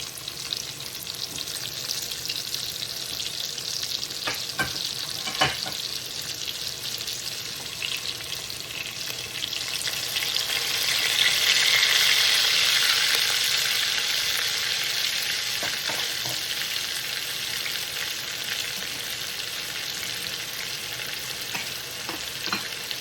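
Onion and green pepper fry in bacon fat with a loud, continuous hiss that swells noticeably partway through, then settles back, with a few faint knocks and no talking.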